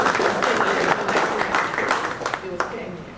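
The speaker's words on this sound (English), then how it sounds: "Let's give her a round of applause for the great discovery." Audience at a history talk about the Lucayan Sea and the Bahamas applauds an archaeologist's discovery, a moderate round of clapping that swells early and then thins toward the end, with a voice talking faintly over it.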